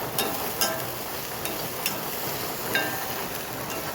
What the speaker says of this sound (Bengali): হয়ে গেছে আমার পেঁয়াজ ভাজা